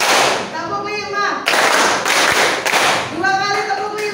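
Hand claps in a rhythmic pattern led in a classroom, sharp loud claps in short bursts over about four seconds, mixed with a teacher's voice speaking and chanting over them.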